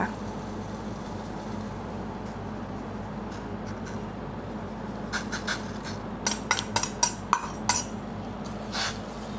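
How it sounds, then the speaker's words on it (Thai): Sugar stirred into blue butterfly pea flower water, a spoon scraping softly at first, then a run of distinct clinks against the glass or pot near the end, close and fairly quiet. "แล้วก็ค่อยๆ คนนะคะคนให้น้ำตาลละลายค่ะ"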